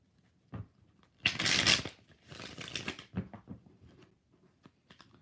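Tarot cards are shuffled by hand in a few quick bursts, crisp riffling and flapping close to the mic with short pauses between, including one longer riffle.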